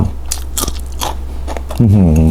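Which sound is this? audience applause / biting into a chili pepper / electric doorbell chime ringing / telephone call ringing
biting into a chili pepper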